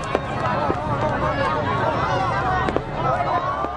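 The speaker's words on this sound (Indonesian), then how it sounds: "Pekikan suara mercon memecah suasana." Firecrackers bursting at a New Year celebration in Depok, with repeated sharp cracks popping over a steady crowd hubbub and people talking throughout.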